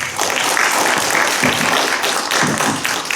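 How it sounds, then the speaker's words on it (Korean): A lecture audience at a Bucheon cultural center applauds loudly and continuously, a thick, even roar of many hands with no pauses throughout. "다시 한번 큰 박수 부탁드리겠습니다"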